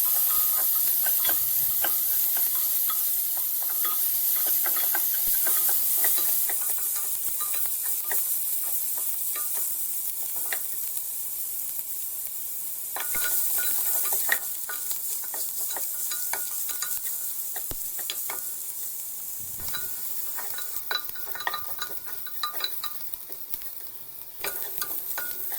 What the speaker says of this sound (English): Now the chopped onion goes into the pot. Saute the onion until it gets brown in color.